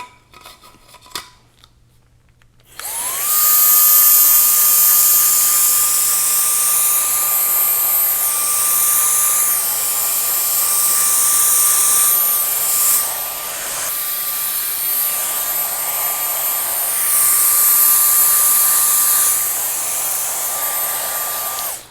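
A hair dryer fitted with a diffuser switches on after about three seconds of near quiet, then blows a loud, steady rushing whoosh with a constant motor whine on the cold-shot setting at high airflow while styling a textured crop.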